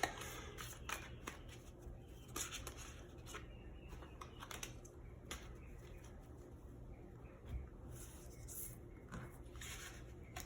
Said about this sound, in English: So I'm going to pull 2 more cards to see how these cards are all connected.